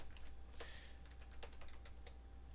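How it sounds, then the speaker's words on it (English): Quiet, close keystrokes on a computer keyboard as a command is typed into an IRC chat client, irregular clicks spread over a couple of seconds with no talk. "Simply type whack join and the channel name"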